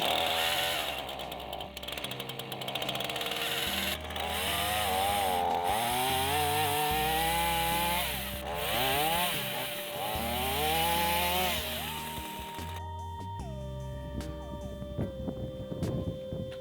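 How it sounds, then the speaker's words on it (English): Chainsaw revving and cutting into wood logs outdoors at an off-grid tiny house, the engine pitch bogging down under load and rising again between cuts, ending with the saw dropping to a lower idle. "the chainsaw is more likely to cut into the wood than if I was doing it on a sidewalk"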